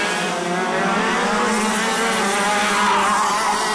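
KZ2 Master racing karts roar through the final corner at Villars during a race final, a dense, continuous high-pitched engine drone from several karts at close range.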